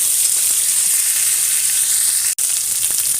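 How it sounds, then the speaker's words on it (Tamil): Ten garlic cloves sautéing in a pan, a steady, close, continuous sizzle with a brief dropout near the end; no voices. "பத்து பல்லு பூண்டு நல்லா வணக்கிக்கலாம்"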